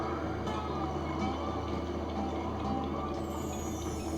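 Iron Horse trains rumbling along in the Sly 2: Band of Thieves video game, a steady continuous mechanical rolling drone with faint clanks, heard alone throughout.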